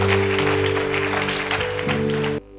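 Church congregation applauding and cheering in acclaim of Jesus during a French-language service, a dense wash of clapping and voices over sustained organ or keyboard tones, cutting off abruptly near the end.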